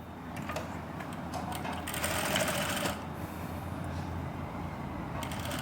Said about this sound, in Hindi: अब यहाँ पे सिलाई बड़ी सावधानीपूर्वक लगाऊंगा मैं।